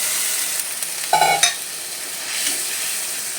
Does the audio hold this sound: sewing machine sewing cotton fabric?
no